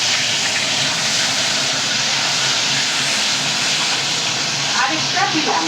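Pieces of katla fish frying one at a time in hot oil, a loud, continuous sizzle and hiss that holds steady throughout, with a few faint clinks near the end.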